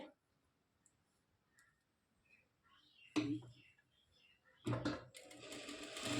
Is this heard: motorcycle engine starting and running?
no